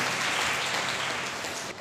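An audience at a Tamil church debate gathering claps together, a broad steady burst of applause that holds for nearly two seconds and trails off at the end.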